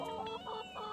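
Chickens cluck softly in short bursts, faint and nearby, with no talking.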